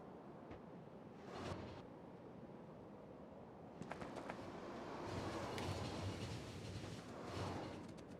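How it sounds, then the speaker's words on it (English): Trains rolling along rails in the Factorio video game with the Pyanodon's Hard Mode mod, a steady low rumble with clattering bursts that swell midway and hold as several trains pass. "There are so many trains trying to catch up on everything right now."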